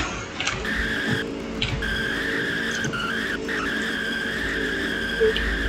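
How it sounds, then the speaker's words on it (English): A 2021 Chevrolet Corvette C8 spins standing donuts. Its tires give a sustained, wavering squeal over a continuous engine drone, loud throughout. "this thing does like really good like standing-ish donuts"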